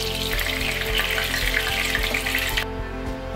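Chilli chicken pieces deep-frying in hot oil, a loud, dense, close sizzle and bubbling that holds steady and then softens slightly toward the end.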